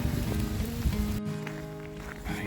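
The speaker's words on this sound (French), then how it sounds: "il a fait une grosse pluie d'orage" Heavy thunderstorm downpour hitting the ground on a Camino de Santiago walking path, a steady dense hiss of rain with a low rumble underneath, continuous and fairly close throughout.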